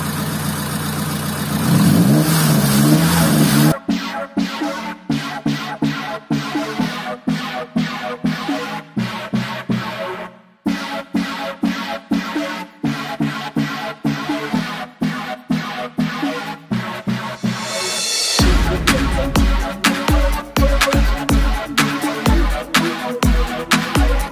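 A motorcycle fitted with a twin light ignition module revs hard in repeated sharp bursts, each rising and cutting off quickly, heard loud and close with no talk.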